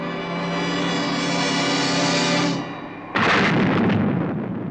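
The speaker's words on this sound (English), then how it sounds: "It seemed like an eternity before that missile struck home." Missile striking its target in a Stingray episode, a long rushing roar that fades before a sudden loud explosive blast with a rumbling, crackling tail.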